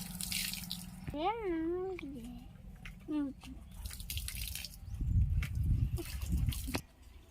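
Water is poured onto a potted plant, a splashing, trickling liquid sound that grows louder in the second half. A person talks over the start.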